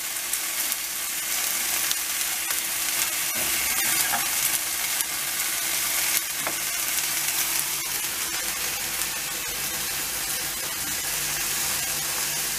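A ribeye steak sizzles in a cast iron pan: a loud, steady, crackling fry hiss that holds for the whole stretch, with a few brief spits and pops.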